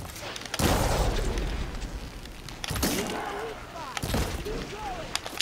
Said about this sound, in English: Let me shoot that canister off and...